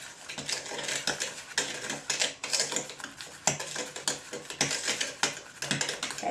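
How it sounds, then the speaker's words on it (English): Wire whisk scraping and clicking rapidly against a bowl while pumpkin spice muffin batter ingredients are mixed, a steady run of close, bright strokes with short pauses. "We're going to whisk the ingredients together."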